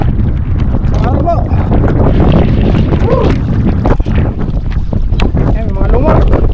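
Strong wind at sea buffets a small fishing boat, a loud, rough rush of gusts and hull-and-water noise that runs the whole time, with a voice talking over it.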